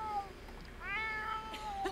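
A pet cat in The Sims 4 meows twice, a short first call followed by a longer rising, wavering meow, close and clear over a quiet game backdrop.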